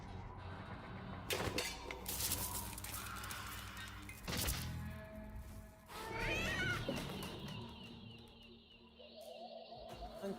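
A cat meows several times in short, scattered calls amid clattering thumps and other game-like noises, faint and layered, with a brief voice in the background.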